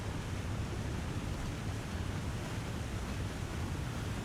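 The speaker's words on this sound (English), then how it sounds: "Sounds like a waterfall." Waterfall in the wintry survival game The Long Dark, a steady, broad rushing roar of falling water heard from some distance, constant and even with no pauses or voices.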